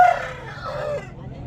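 A rooster crows once, close and loud, at a country chicken market in Mydukur, Kadapa, with faint background murmur.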